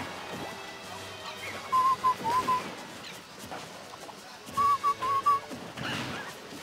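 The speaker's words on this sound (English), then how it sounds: "I've just kind of been whistling" A Super Smash Bros. 4 commentator whistles a short tune in two brief bursts, clear over a muffled background of game sounds and low noise.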